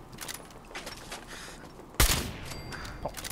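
Gunfire takes out a turret in Fallout 4. One loud, close shot with a crackling burst over quiet game ambience. Softer clanks and mechanical rattles follow after it.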